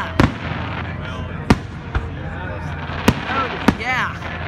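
Fireworks from the 2017 Stanford display bursting in four sharp, booming reports roughly every second and a half over a steady crackling rumble, with crowd voices and a whistling rise near the end.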